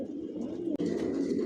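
Low, throaty cooing from a group of racing pigeons in a loft fills the moment nearby, a continuous overlapping murmur interrupted by one brief sharp click midway.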